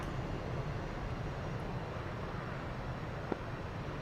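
A jet aircraft in the DCS flight simulator coming in to land on a runway at night, with a steady, loud broadband engine roar running throughout and no voices.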